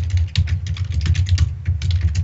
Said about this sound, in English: Now, it's just my desktop keyboard this time. It's just kind of clickety-clackety, but it has really nice buttons.